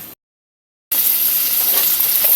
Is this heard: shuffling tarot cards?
no